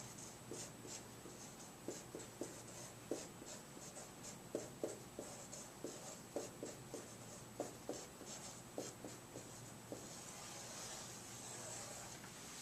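A pen scratches across paper while terms of a polynomial are worked out in standard form, making short, repeated close strokes with brief pauses, quiet and with no voice.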